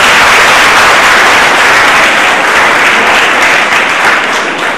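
Loud, sustained applause from an audience at a swine flu workshop in a college hall, dense clapping holding steady for several seconds before easing slightly at the end.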